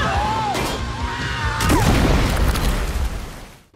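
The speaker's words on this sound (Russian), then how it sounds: "Харли тут же толкает Черную маску в воду, и граната взрывается, убивая злодея" A grenade blast in a superhero film scene lands as a heavy boom partway through, rolling into a long, loud rumbling decay after a short stretch of score and effects.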